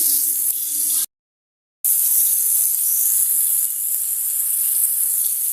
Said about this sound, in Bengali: এখন দেখতে পাচ্ছ আমি পটল ভাজা করতেছি